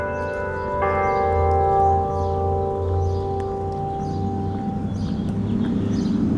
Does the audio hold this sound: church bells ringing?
yes